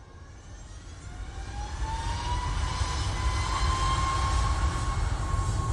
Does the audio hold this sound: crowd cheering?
no